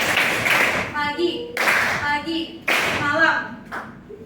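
Several rounds of rhythmic group hand clapping in a classroom game, sharp and near, alternating with a teacher talking in between.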